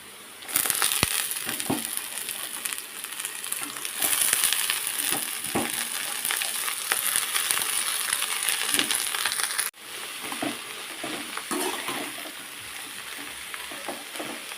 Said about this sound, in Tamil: இப்போ நம்ம நறுக்கி வச்சுருக்க கீரையும் சேர்த்து வதக்கிக்கலாம்.